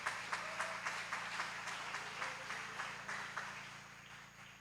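A church congregation at a preaching service claps in praise of God, a steady rhythmic applause from many hands heard at a moderate distance, with no talking over it.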